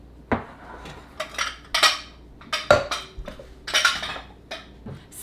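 Banana bread batter with coconut oil being stirred in a bowl, a utensil clinking and scraping against the sides in uneven bursts, close and moderately loud with no talking.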